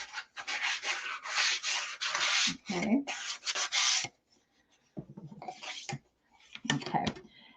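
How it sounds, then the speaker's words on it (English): A Dollar Tree flower sign hand sanded lightly, giving close, scratchy rubbing strokes in quick back-and-forth bursts that stop and start, with a brief spoken word among them. "Now I'm going to just do a light sanding"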